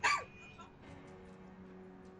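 A single short, bright bark from a dog indoors opens the moment, followed by a quiet room hum.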